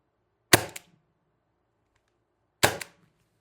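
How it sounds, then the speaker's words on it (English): A TR50 Torpedo air rifle with an upgraded bolt spring is dry fired twice, about two seconds apart, each a sharp, close, loud snap with a short metallic after-clack, with silence between. "I've still got some air in there. Just dry firing it now."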